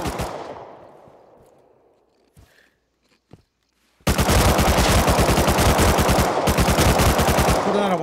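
Sustained, rapid machine gun fire in a video game, loud and close, bursts in after a few seconds of quieter fading sounds and a couple of isolated clicks, then hammers continuously to the end.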